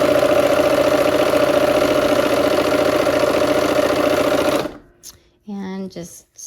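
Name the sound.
sewing machine sewing quilt block pieces with 1/4 inch foot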